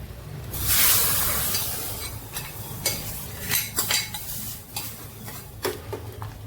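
Metal spoon stirring sambar in a pot: a loud splash and scrape at the start, then a string of close clinks and knocks against the pot over a low simmering hiss.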